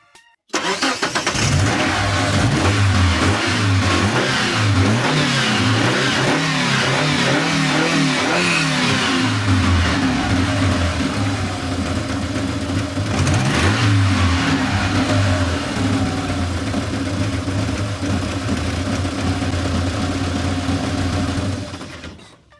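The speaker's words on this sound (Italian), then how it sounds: "Ok, momento della prova accensione." A Mitsubishi Eclipse GS engine cranks and fires up, then revs repeatedly after its spark plug wires were replaced. The loud engine note rises and falls steadily throughout, close to the listener.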